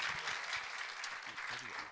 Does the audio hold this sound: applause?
yes